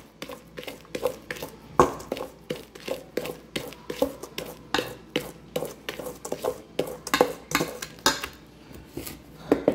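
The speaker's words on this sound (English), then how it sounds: "Mix together." Brownie batter with butter is mixed in a bowl, producing repeated scraping and clinking strokes of a utensil against the bowl in an uneven, steady rhythm, close and distinct, with no speech.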